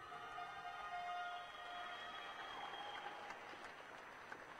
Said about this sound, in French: Je vous demande d'applaudir Camille Pringer.